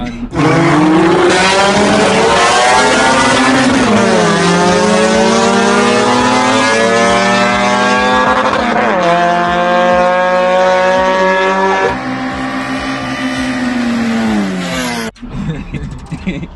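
A loud nitrous-fed Toyota Levin race car with a 2ZZ-GE engine screams through rising and falling gear changes, pitch sweeping up and dropping repeatedly before cutting off near the end.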